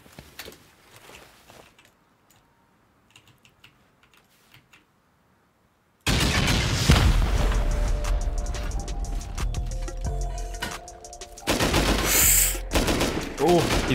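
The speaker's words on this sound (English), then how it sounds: "I'm gonna send off some rockets." Rocket volleys slam into the walls of a player-built base in a survival video game, a sudden loud barrage of blasts and rapid fire erupting after several seconds of near silence and continuing densely to the end.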